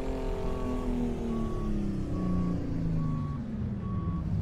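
A Kenworth Needle Nose truck in American Truck Simulator backs up, its reversing alarm beeping in a steady, evenly spaced series over a low, continuous diesel engine drone.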